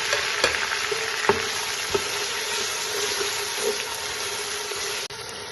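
A steady, close sizzle of five or six tomatoes frying with ginger in a hot pan, with occasional soft stirring clicks and scrapes, no voices.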